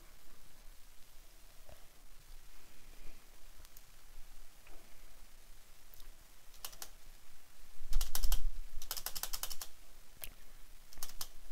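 A space bar on a new computer keyboard is spammed during a Roblox Fall Guys game: scattered faint key clicks give way to a dense, rapid burst of clacking near the end, with no talking.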